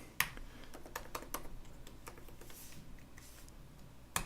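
Someone types on a computer keyboard while coding, irregular clusters of crisp key clicks close by, with a couple of sharper taps standing out.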